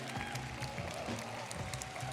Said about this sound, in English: Let's hear a big round of applause for all of the Pokemon Go trainers